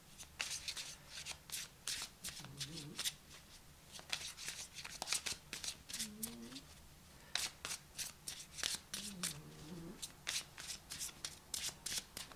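Tarot cards being shuffled by hand in quick, crisp riffling bursts, close and quiet, with a few soft low murmurs in between.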